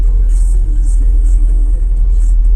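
Tofaş Şahin car cruising at speed on a highway, heard from inside as a steady, loud low engine and road rumble with no breaks.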